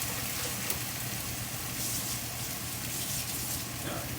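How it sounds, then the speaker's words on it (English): Running water rinses leftover tomato sauce out of a kitchen blender while making enchiladas, a steady close splashing hiss that continues evenly throughout with no pauses. "I'm just rinsing out the blender to make sure I catch all the tomato goodness"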